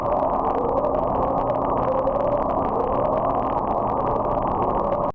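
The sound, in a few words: upsweep, mysterious deep-sea sound recorded by US Navy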